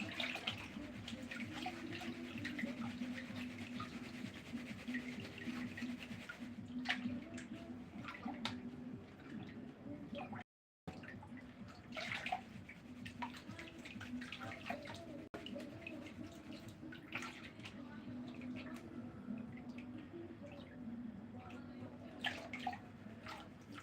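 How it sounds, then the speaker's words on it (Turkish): Steady water rushing over a gold sluice board tilted forward at 45 degrees, washing light material off the top, a continuous close wash with one brief dropout midway. "Su üstten hafif malzeme kendisi sıyırıp götürüyor."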